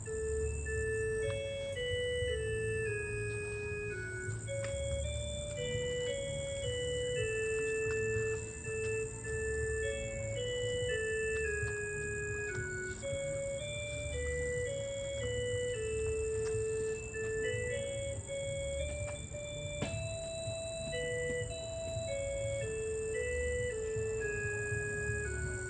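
An organ plays a slow hymn-like melody of sustained notes over a low continuous drone. The sound stays steady and moderately quiet with no voices.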